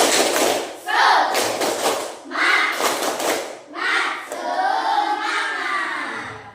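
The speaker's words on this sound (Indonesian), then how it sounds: "Coba tepuk semangat." Schoolchildren in a classroom perform a rhythmic spirit clap, bursts of patterned clapping and thumps alternating with children's chanting voices.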